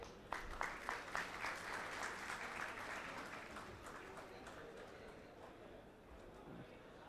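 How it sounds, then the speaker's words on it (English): Audience applause after a memento presentation to a guest speaker at a talk, opening with a few sharp, close claps that swell into a soft, blended clapping from the room and gradually thin out toward the end. "Ladies and gentlemen, please give a huge round of applause."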